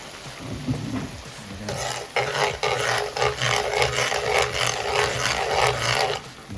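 Minced garlic stirred into a chicken pasta sauce in a pan, giving a steady close sizzle with scraping stir strokes that start after a quieter moment and carry on to the end, with no talking.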